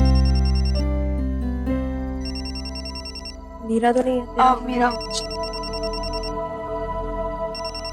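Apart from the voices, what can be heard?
phone ringtone ringing inside bag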